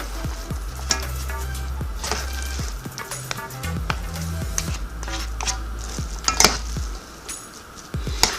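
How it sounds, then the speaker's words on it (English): A black bean and veggie stew is stirred in an Instant Pot pressure cooker pot, with steady sizzling and repeated scraping and clinking of the utensil against the pot, close and fairly loud throughout. "Now over here, we're just going to mix this all up."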